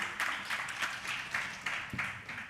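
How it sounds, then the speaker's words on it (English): Panel quiz audience applauding, a steady, modest round of clapping from a room of people, continuous for a couple of seconds with slight pulsing. "And a round of applause"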